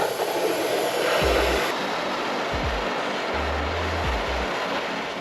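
Compressed air hisses steadily as it pressurizes a damaged 2-stroke exhaust pipe in a workshop. The rushing noise is loud and continuous, with a few dull low thumps underneath and no talking.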